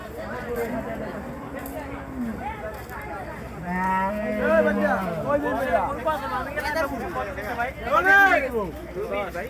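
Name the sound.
cattle mooing at a rainy livestock market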